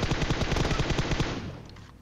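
Rapid automatic gunfire in PUBG Mobile, a close burst of a dozen or so quick evenly spaced shots that stops abruptly and trails off into a fading echo.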